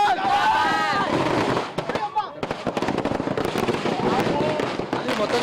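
Fans burst firecrackers at a Pushpa 2 release celebration, a dense run of sharp cracks and pops going off steadily throughout amid loud crowd cheering and chanting voices.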